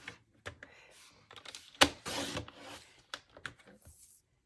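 A paper trimmer slices through sheets of patterned crafting paper, making close, quiet sliding and rasping cuts with small clicks and taps, one longer scraping pass in the middle, no talk.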